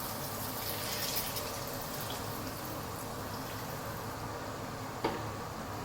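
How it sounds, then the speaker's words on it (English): Filtered water pours steadily into a pot of curry chicken, a continuous hissing, splashing stream that runs throughout with a small clunk near the end. "I'm going to add in some filtered water."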